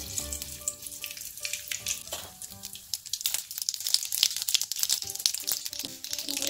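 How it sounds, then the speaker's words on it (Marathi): Hot oil sizzles steadily as mustard seeds crackle and pop in quick, irregular bursts, close and fairly loud, with no voices. "तेल तापलेलं आहे, त्यामध्ये मोहरी टाकून घेऊया।"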